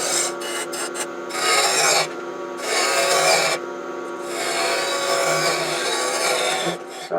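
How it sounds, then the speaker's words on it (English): Spindle roughing gouge hogging wood off a spinning antique bedpost finial blank on a lathe: loud rasping, scraping cuts in several bursts separated by short pauses. "Now we use the spindle roughing gouge to start hogging off some wood here."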